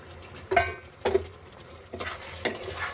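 Potatoes dropped into a pan of frying chicken curry, a few sharp clunks and splashes followed by sizzling and a couple of spatula scrapes, near and moderately loud.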